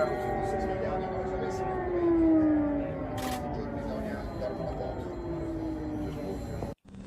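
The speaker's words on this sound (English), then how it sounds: "These are some of the sirens going on in downtown in the capital city." Air raid sirens wailing over downtown Kyiv during the Russian invasion of Ukraine, long rising and falling tones heard from a distance, layered over steady street and crowd noise, with a brief camera click.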